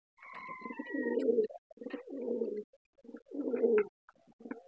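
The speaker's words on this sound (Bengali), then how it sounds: "এটা নর কবুতর।" A male pigeon coos nearby in repeated low, throaty phrases with short pauses between them, alone and fairly soft, with a faint higher chirp early on.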